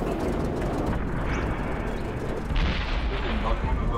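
A T29 tank gun fires in a video game, a deep booming blast with a rumbling tail set among low battle noise.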